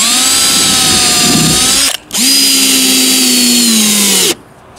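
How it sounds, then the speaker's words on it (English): A power drill drilling holes in a DIY travel trailer while installing a roof fan whines loudly in two sustained bursts with a short pause between, close up and steady. "Now we'll drill our holes"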